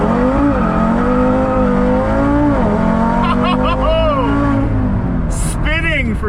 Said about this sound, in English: Just melting those tires!